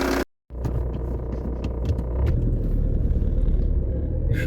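A 1993 Volkswagen Polo with an engine that does not knock pulls away, giving a steady low engine rumble and road noise heard from inside the car that builds slightly as it moves off.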